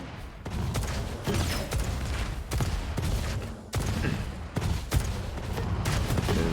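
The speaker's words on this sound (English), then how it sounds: "187's rockets are looking spectacular." Repeated rocket launcher blasts and explosions in the Diabotical video game arena, a dense run of sharp booms at an uneven rhythm, loud and continuous with no pause.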